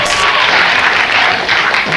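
Studio audience at a late-night talk show applauding, a dense, steady wash of clapping that fills the whole stretch at close range.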